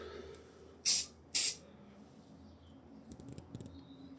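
Two quick hissing bursts of a spray bottle close by, spraying cleaner onto a Land Rover Discovery Sport bumper, followed by quiet handling noises and faint clicks.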